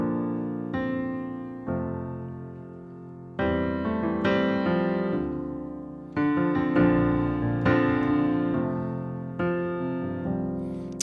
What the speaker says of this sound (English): the first thing you'll hear is a four-bar introduction